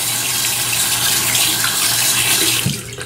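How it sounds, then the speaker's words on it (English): Running tap water gushes steadily while a shaving brush is wetted under the flow, a continuous close splashing rush with no talking. "So let's just wet this brush"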